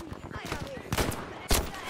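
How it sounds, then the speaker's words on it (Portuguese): Rapid gunfire bursts crack in the World War II shooter Battlefield V, a quick run of shots followed by two louder, sharper blasts, with faint voices underneath. "dei-lhe um tiro certeiro na cabeça"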